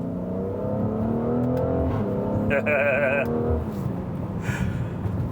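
A 2020 Mercedes-AMG GLC 43 4Matic SUV engine revs up with a rising whine, then settles back, accompanied by a brief high-pitched burst in the middle.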